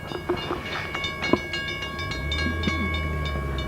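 A train at a railroad station rumbles and clatters nearby, with irregular metallic clicks and squeals over a low, steady rolling drone.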